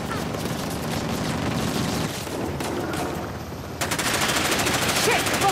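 Gunfire from a weapon in Uncharted: The Lost Legacy, sustained rapid bursts over continuous combat noise, with a harsher, louder stretch of automatic fire in the final seconds.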